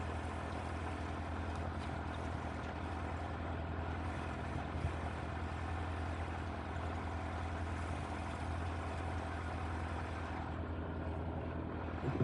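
Small airplane taxiing slowly out of a hangar on a snowy day, its engine giving a steady, loud, continuous drone with a low throb that holds unchanged throughout, with no voices.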